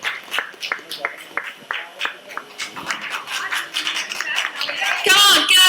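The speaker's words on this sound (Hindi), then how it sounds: "Clap louder" A small audience claps at a TV serial launch event, starting as sparse separate claps and building into fuller applause toward the end, with speech and music mixed in.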